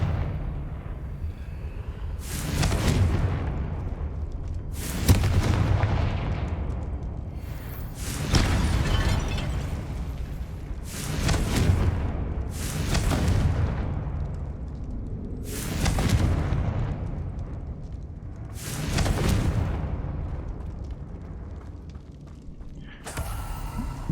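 Series of about seven heavy booming blasts from the Confringo spell in the video game Hogwarts Legacy, each a sharp crack trailing into a rumbling decay, spaced a few seconds apart over a low background drone.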